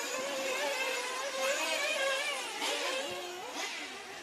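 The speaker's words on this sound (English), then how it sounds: "You hear it, engine running badly underneath me" Small 1/8-scale off-road RC car engine running badly at a European championship race, a dense, high, buzzing whine with wavering pitch that holds steady throughout, with other engines blending into the background.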